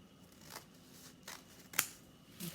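Scissors snip through folded accordion paper for handmade forsythia blooms, a few faint, sparse cuts against quiet background hiss.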